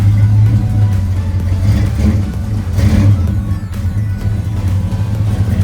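Engine of a Chevy box car with a fuel problem cranking and revving, a loud steady low rumble that swells slightly as it is run up, close and continuous with no talk.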